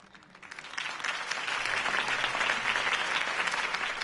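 A large crowd applauds at a mayoral campaign rally after a speech, with sustained dense clapping and cheering that swells within the first second and holds steady, loud and broad.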